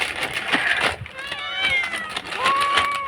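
A large cat meows close to the microphone, several drawn-out wavering cries following one another, with people speaking faintly behind.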